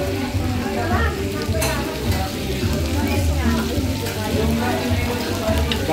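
Food fries in hot cooking oil with a dense, continuous crackling sizzle, loud and close, while people talk over it.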